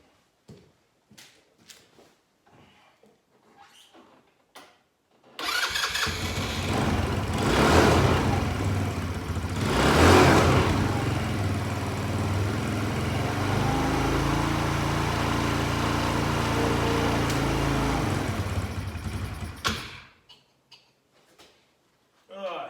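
A small engine on a cheap Chinese four-wheeler roars to life and runs loudly and steadily with a rough, buzzing idle, then cuts off; brief talk comes before and after.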